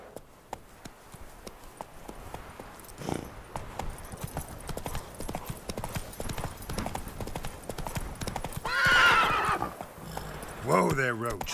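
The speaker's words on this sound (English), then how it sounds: "Whoa there, Roach" In a video game, a horse gallops with steady rapid hoofbeats and neighs loudly twice, once in the middle and again near the end. Faint game sounds sit underneath.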